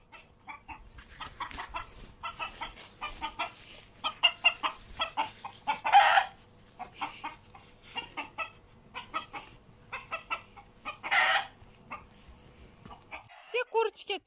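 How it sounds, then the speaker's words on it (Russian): Frightened chickens on a village farm cluck in rapid, busy bursts, close and fairly loud, with a couple of sharper squawks in between. "Вот только куры были очень напуганы и совсем не хотели идти на контакт."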